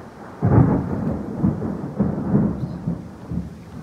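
Thunder from a lightning storm: deep rolling rumbles that swell and fade in several low, booming pulses, loud and close, with no voices over them.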